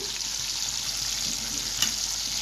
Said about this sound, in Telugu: మునక్కాయ ముక్కలు ఫ్రై అయిపోయాయండి చూసారు కదా మనకి ఇలా గోల్డెన్ కలర్లోకి రావాలి